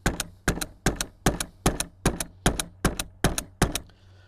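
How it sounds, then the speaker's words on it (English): A pistol slide is racked against a tabletop ten times in a steady rhythm, each rack a loud, close, sharp mechanical clack with a short thump, evenly spaced about every 0.4 seconds, with no talking. "Let's rack it 10 times on this table."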